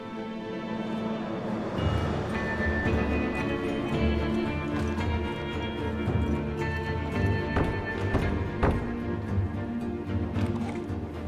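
Horse hooves clip-clop in an uneven, busy rhythm, with a whinny and other clattering noises mixed in at moderate volume.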